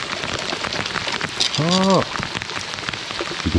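Rain falling steadily by the Songkhram river, a dense continuous patter on surfaces, with a brief tonal voice-like call near the middle rising above it.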